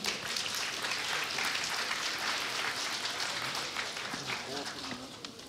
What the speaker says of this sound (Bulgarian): Аплодисменти за Милана